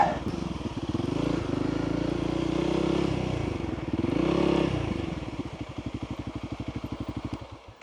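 Honda CRF300L dirt bike riding on a dirt trail, its single-cylinder engine rising and falling through revs, then settling into a slow, rhythmic thumping idle up close.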